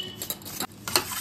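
Egg mixture with chopped onion and chili being stirred in a bowl, a short run of soft scraping and clinking spoon strokes, close and fairly quiet.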